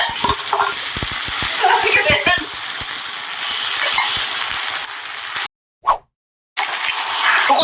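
Shrimp paste stir-fries loudly in a hot pan, hissing and sizzling steadily with scraping stirs and small pops. The sizzle cuts out briefly near the end and then resumes.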